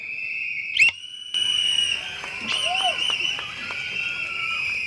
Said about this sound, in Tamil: உங்களுக்கு சந்தேகம் இருக்கிறது என்றால் விசிலடித்து காட்டுறேன்